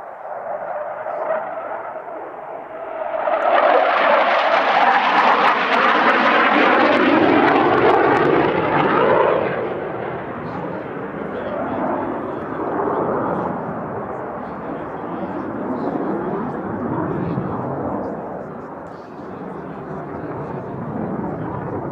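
A Saab J35J Draken jet fighter displays at the Midlands Air Festival 2024, its engine building to a loud, close roar for several seconds before easing into a sustained, fading rumble, with voices at times.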